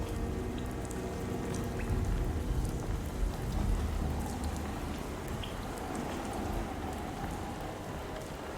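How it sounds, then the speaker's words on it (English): Steady rain in the video game Alone in the Dark, a dense continuous patter with a low rumbling wash underneath, moderately loud and even throughout with no voices. "Is it raining?"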